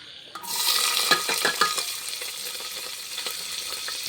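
Ginger-garlic paste and onion dropped into hot oil, bursting into a loud sizzle with crackles and stirring clatter, then settling into a steady frying hiss.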